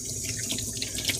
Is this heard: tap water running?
yes